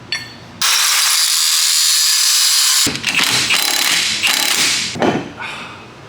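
Power tool grinding through wheel lug studs on a kei truck, a loud sustained high whine for about two seconds followed by choppier bursts of cutting and clatter, very close.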